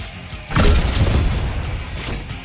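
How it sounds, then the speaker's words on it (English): A cannon in a video game fires with a sudden deep boom that rolls on and stays loud for about two seconds, with no talk over it. "Ben, get in the bloody cannon, Ben!"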